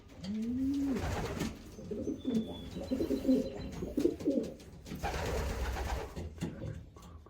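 A racing pigeon coos softly while being held and inspected up close, giving a low, throaty run of warbling coos with brief rustles in between.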